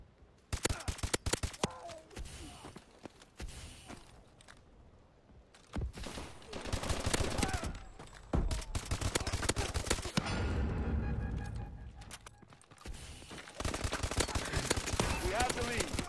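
Repeated MK14 rifle fire in first-person shooter gameplay, with bursts of sharp, loud shots in rapid runs broken by pauses, plus explosions and other game noise filling the gaps.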